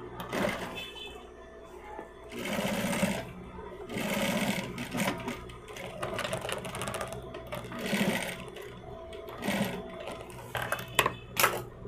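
A sewing machine stitches the bottom of a handmade bag in several whirring bursts separated by short pauses, close and moderately loud, with brief sharp clicks near the end.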